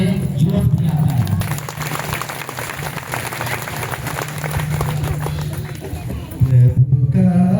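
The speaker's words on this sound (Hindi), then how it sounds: "थोड़ा सा ताली बजा दीजिए, जोश भी आता है।" A church congregation at a Father's Day service claps hands together, a dense sustained burst of applause that runs throughout, with voices and a low hum mixed in and a louder swell near the end.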